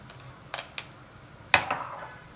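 Eggs beaten with salt and pepper powder for egg manchurian: a few quick metallic clinks and taps of a utensil against a bowl, separated by pauses, fairly faint and close.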